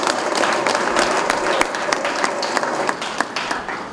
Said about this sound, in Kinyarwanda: n'ababyeyi mwamera amashyi kubyo bakoze.